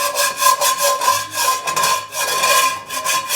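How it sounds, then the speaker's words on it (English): A utensil scrapes stuck chunks off a hot cast iron waffle pan in quick, rhythmic back-and-forth rasping strokes, loud and close, with no talk. "I like rubbing off things while the pan is still hot."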